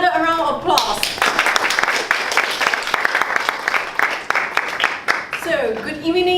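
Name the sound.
audience applause at a Toastmasters meeting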